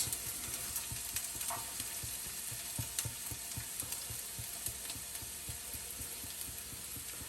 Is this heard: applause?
no